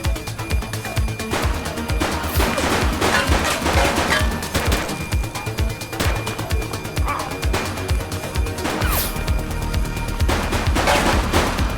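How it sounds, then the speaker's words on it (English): Rapid bursts of gunfire during a police shootout in the video game The Precinct, loud repeated shots in dense volleys throughout, with voices talking in between. "Shots fired! Suspect is down."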